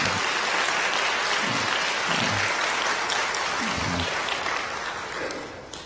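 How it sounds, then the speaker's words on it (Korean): A church congregation at a Sunday service applauds in welcome, with a steady wash of clapping from many hands that fades toward the end. "여러분들 환영의 박수 부탁드리겠습니다"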